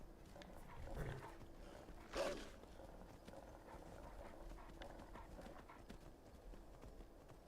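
Horse hooves clip-clopping in the video game Skyrim, soft repeated hoofbeats under steady game ambience with one louder thump, fairly faint throughout.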